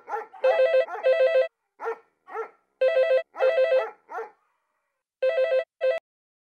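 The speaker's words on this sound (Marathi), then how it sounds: "टायगर का भुंकतोय?" A dog barks in repeated short, sharp bursts within a household scene, with brief pauses between volleys; the barking is fairly close and heard alone without talk.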